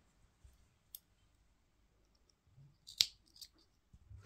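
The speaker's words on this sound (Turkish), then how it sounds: "Krem ipimi keseceğim." A single crisp snip of scissors cutting cream-coloured knitting yarn during two-needle seamless kilim-pattern slipper work, close and isolated, with a few faint clicks before and after.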